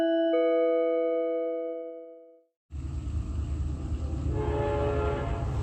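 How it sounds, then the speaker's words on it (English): A train horn blares loud and sustained as a steady chord for over two seconds, fading out, followed by the heavy rumble of the passing train. "The moment that I press stop, the sound of a train sounds."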